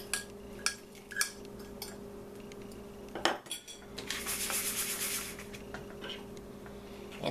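A spoon pressing a buttery graham-style crumb crust into a pie plate, with scattered clinks and scrapes of metal on the dish followed by a softer sustained gritty rubbing, close and quiet, no talking.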